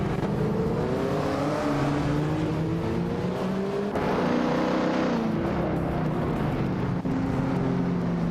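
Race cars roaring in a racing video game, a continuous droning engine whine that climbs and shifts in pitch as the cars accelerate, loud and steady throughout with no talking.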